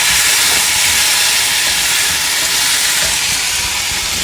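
Tomatoes and red chilies sautéing in a pan give a steady, loud hiss of sizzling that runs unbroken from start to finish with no voices.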